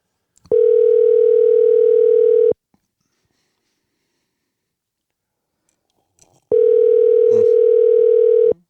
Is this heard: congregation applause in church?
no